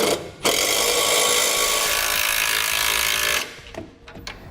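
A power tool drives a 9/16 socket to snug U-bolt hardware on a compressor bracket during a Firestone Air Command II installation on a 2018 Chevrolet Silverado, a loud steady whirring burst of about three seconds, then a few small clicks.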